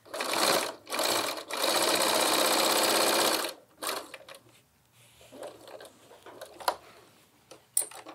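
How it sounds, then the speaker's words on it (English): A sewing machine stitches the edge of a lined tote bag strap in bursts of rapid, close whirring, then stops, leaving light handling clicks and rustles. "And then I'll do one more row of stitching."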